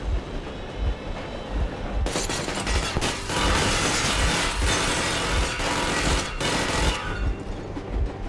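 Machine gun warning shots in Metro Exodus, a long rattling burst of rapid fire over a steady rhythmic train chug, breaking off sharply before the rumble continues.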